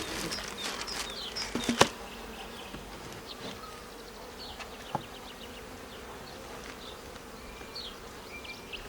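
Honey bees buzzing around an opened Ukrainian-Alpine hive during a spring brood-nest expansion, a steady dense drone throughout with a few sharp knocks in the first couple of seconds.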